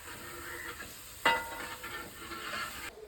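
Chicken biryani masala frying in a pan while being stirred, a soft steady sizzle with scraping strokes and one sharp clink of the spoon against the pan, close and alone.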